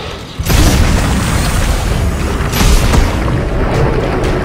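A bomb goes off in the sci-fi horror shooter Dead Space 3, a sudden loud boom followed by a sustained heavy rumbling roar that stays dense and loud to the end, with further thuds inside it.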